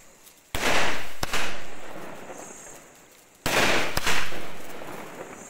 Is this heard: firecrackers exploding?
yes